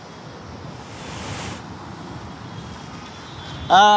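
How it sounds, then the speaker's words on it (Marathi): Broad, rushing roar of heavy surf with a swelling surge midway, wind buffeting the microphone, and a brief tonal blip at the end. "मोठमोठ्या लाटा ज्या आहेत ते आता उसळत आहे"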